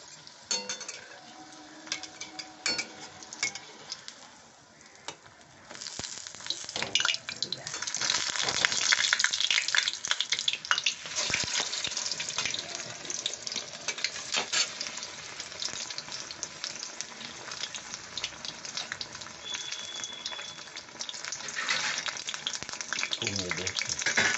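Water lily stem fritters go one at a time into hot oil and fry with a dense, crackling sizzle. It starts moderate and swells louder after a few seconds, with occasional utensil clinks and stirring scrapes.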